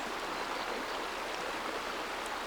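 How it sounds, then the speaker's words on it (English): A rocky stream in spring, its water gliding down over the stones in a steady, close rush that holds constant throughout, with no voices. "absorbed by the sound of water"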